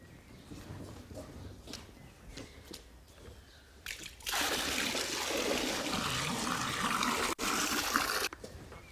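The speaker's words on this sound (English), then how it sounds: "Then we'll pour it evenly into the foot bath." Zinc sulfate solution is poured from a bucket into a sheep foot bath, with quiet splashing at first, then a steady, rushing pour of liquid for about four seconds that stops briefly and resumes.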